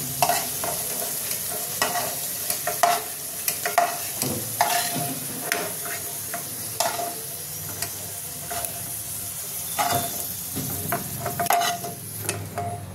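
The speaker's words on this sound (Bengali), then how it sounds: "আলুটা লাল করে ভেজে নেবো।" Potato pieces frying in a pan for a prawn and dhoka curry sizzle steadily up close, with repeated sharp scrapes and clacks of a spatula stirring them throughout; no voices.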